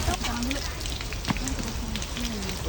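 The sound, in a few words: rain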